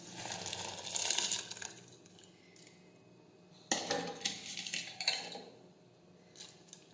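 Dry khichdi rice and lentils tipped into boiling water in a pressure cooker, a gritty rattling pour followed by short clinks and scrapes of a utensil against the metal pot, close and fairly quiet.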